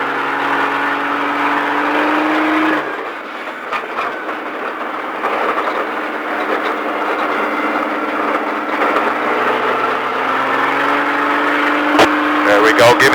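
A race car on a Las Vegas track runs under full throttle, its high engine whine sustained loudly with a brief dip in tone before climbing again, accompanied by road and wind roar.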